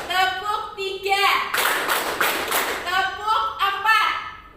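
A classroom of children claps together in short counted bursts, their chanting voices alternating with sharp unison clapping in a steady rhythm.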